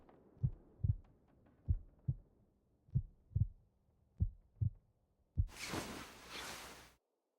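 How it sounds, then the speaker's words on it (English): Heartbeat in the survival game The Long Dark, slow paired thumps repeating steadily and close, with a soft low hum under them, then cut off by a broad rushing whoosh near the end. "The heartbeat has finally stopped."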